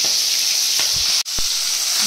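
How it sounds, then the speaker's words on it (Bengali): Fish frying in a pan, a close, steady hissing sizzle that runs throughout with a couple of soft knocks and one very brief dropout. "মাছগুলো ভেজে নেবো"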